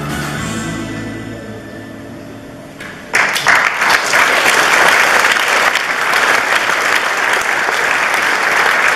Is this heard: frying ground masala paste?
no